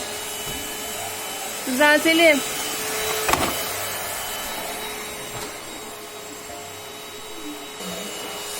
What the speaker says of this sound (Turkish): Ay süpürge ters dönmüş.